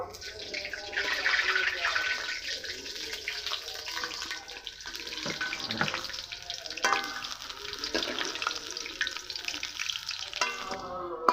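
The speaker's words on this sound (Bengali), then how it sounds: "পকোড়ার 1 পিঠ ভাজা হয়ে গেছে," Flattened rice (chira) pakoras fry in hot oil with a steady close sizzle and some gentle bubbling, while someone talks over it and a few soft clinks sound as the pieces are turned.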